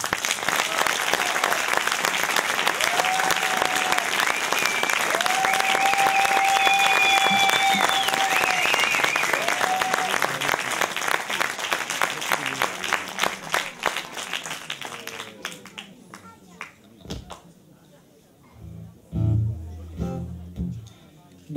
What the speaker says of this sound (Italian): vorrei un applauso bellissimo per Marco Fedrigo